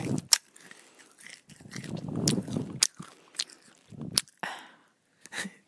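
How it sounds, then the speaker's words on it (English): Peanut M&Ms crunched and chewed in bursts, with sharp close-up bites between softer mastication sounds, heard alone as a mystery sound. "It's Zara eating peanut M&Ms"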